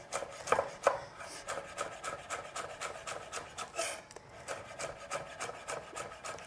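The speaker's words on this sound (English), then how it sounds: "Spring onion, just finely slice it." Spring onion being finely sliced with a knife on a chopping board, quick soft knife taps repeating in a steady rhythm, close and fairly quiet with no talk.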